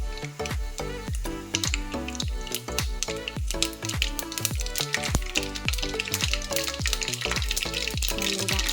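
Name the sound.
mustard seeds spluttering in hot oil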